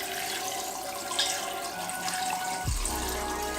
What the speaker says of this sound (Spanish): Y luego añadiremos el agua.